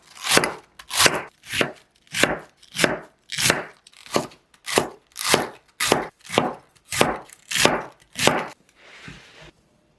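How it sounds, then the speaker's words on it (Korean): A knife shreds cabbage on a cutting board, giving about fifteen crisp, evenly spaced chopping strokes close up with no talk, then trailing into a softer brushing sound at the end. "양배추는 채 썰어주세요"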